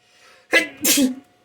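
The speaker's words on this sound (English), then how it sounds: "I just sneezed all over the place" A single sharp sneeze, a quick intake followed by a loud burst, close up in an otherwise quiet room.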